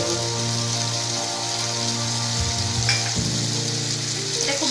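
Ridge gourd and potato pieces with added poppy seeds sizzle steadily in hot oil in a pan, with stirring scrapes and brief bursts of crackle as the mixture is turned; no voices.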